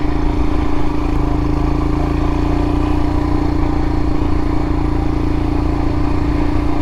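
A Royal Enfield Himalayan motorcycle being ridden off-road through the bushes, its single engine holding a steady, loud, close drone with a constant hum and no pauses throughout.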